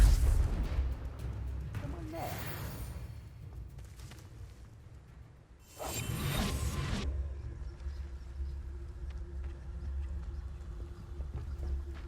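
Spell blasts and explosions in a Harry Potter wizarding video game: two loud broadband bursts, with a big one near the middle, over a rumbling game soundscape, with a character's voice speaking.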